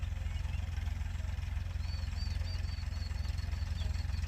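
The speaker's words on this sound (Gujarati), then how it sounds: "અમે આજ લાવી છે અડદમાં હાંકવા માટે ટ્રેક્ટર." A tractor engine runs steadily in an urad (black gram) field, pulling a cultivator for weeding. It is a continuous low, throbbing rumble at an even level, with no pauses and no talking.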